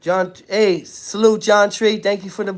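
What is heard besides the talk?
No everyday noises stand out.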